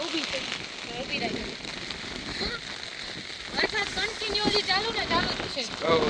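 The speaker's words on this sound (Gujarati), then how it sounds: "અત્યારે વરસાદ ચાલુ જ છે જો" Steady monsoon rain patters down over a constant wash of broadband noise at an overflowing dam near Jam Khambhalia, with people talking over it throughout.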